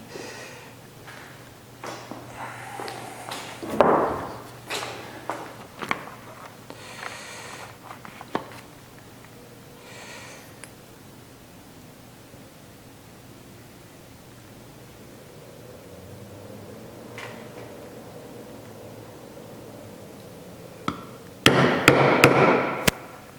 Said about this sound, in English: I don't like hammering on this table, but I'll do a couple here